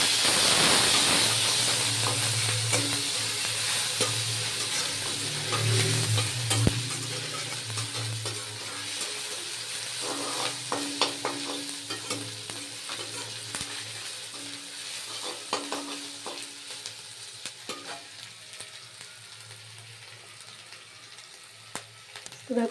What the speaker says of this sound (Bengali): তো দেখো আদাটা আমার অলমোস্ট ভাজা হয়ে গেছে।